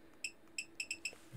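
A Bittle robotic dog gives about six short, faint, high electronic beeps at an uneven pace as buttons on its remote are pressed, with nothing else heard.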